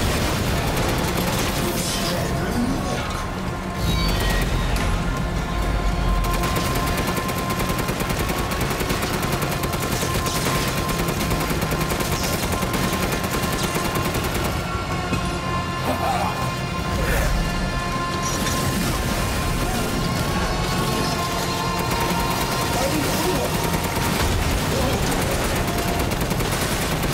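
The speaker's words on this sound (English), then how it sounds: "I guess I'm shooting at those red points." Gunfire rings out in the VR video game Resident Evil Village. There is a loud, continuous barrage of shots, crashes and impacts with hardly a pause, thick with other game noise.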